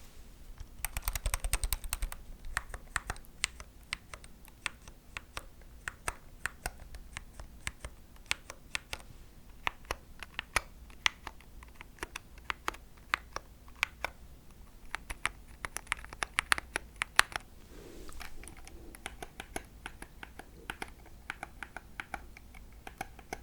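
Fingers type steadily on a high-end gaming keyboard, close up, with rapid crisp key clicks and a brief denser burst at the start, and no talking.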